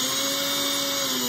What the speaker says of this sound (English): Just applying very light pressure to the drill as I make the hole a little bit deeper.